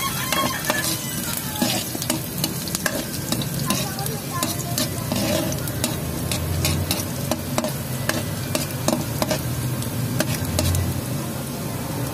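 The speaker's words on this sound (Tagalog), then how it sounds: "magigisa po tayo ng bawang at saka sibuyas guys" Garlic and onion sautéing in a pan for chicken liver, gizzard and feet adobo: a steady loud sizzle under frequent scraping and clinking stirs, continuous throughout.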